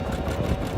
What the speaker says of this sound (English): So now we get our triple step, and we are just sewing over that seam stick that we've put down.